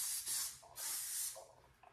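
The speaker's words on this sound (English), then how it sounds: "I'm going to spray my curls while they're still warm with the hairspray, the good spray." Hairspray misted onto warm curls in two close, steady hissing bursts, the second longer than the first, followed by a faint trailing spritz.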